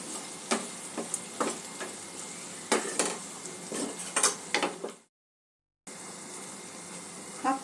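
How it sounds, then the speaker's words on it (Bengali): Boiled vegetables and paneer, destined for a Maggi paneer dish, are stirred and mixed in a pan, the spoon scraping and tapping in uneven bursts over a soft sizzle before a brief silence and a return of the cooking noise. "সব কিছু একটু মিক্স করে নেব"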